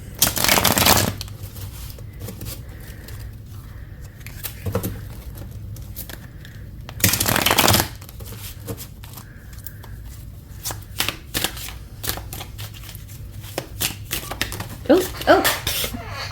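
A deck of tarot cards is riffled in two loud, close bursts about six seconds apart. Lighter card taps and flicks fill the gaps, with soft talking in the background.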